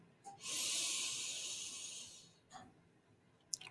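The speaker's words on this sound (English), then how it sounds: "slowly breathing in through the nose" One slow, airy inhalation through the nose, soft and close, lasts well over a second, followed by faint quieter breath sounds and a small click in a quiet room.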